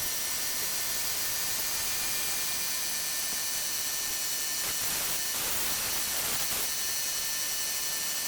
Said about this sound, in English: put some aerosol paint on it just to keep it from rusting